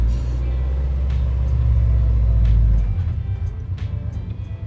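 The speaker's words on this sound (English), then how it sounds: "slowly come off the clutch, start to give it just a little bit of gas" A manual stick-shift car pulls away in first gear as the clutch is eased out with a little gas, giving a steady low engine rumble that swells and then drops off, loud and close, with no talk.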